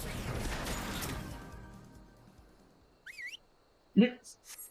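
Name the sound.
mount summoning whistle in Final Fantasy XIV video game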